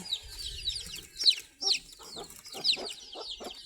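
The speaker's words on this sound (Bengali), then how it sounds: "এখন সম্পূর্ণ সকালবেলার রোদ মুরগি পাচ্ছে" Native desi chickens on a small farm cluck and chatter in the morning sun, several birds calling in short bursts at close to moderate distance with a quiet background.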